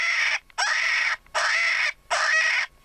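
FLEXTONE Echo electronic predator call playing a crow call during a coyote hunt, four loud harsh caws in a steady rhythm with short gaps between them, no talking.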